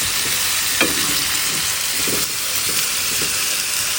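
Chicken 65-style chicken 75 being stirred and tossed in a hot pan, with a steady close sizzle and hiss overlaid by the scrape and clack of a spatula moving the pieces, no talking.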